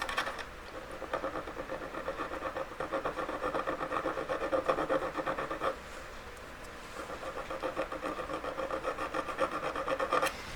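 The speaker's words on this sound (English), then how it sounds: "This needs to be cleaned up nice and perfectly, not all making it wonky from filing it wrong." A metal ring casting is filed by hand, its rasping strokes repeating in a quick, even rhythm at close range, with a brief pause midway before the filing resumes.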